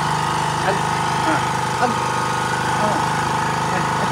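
An engine-driven water pump runs loudly outdoors, a steady close droning hum with a rough mechanical rattle that holds throughout, with a brief voice over it.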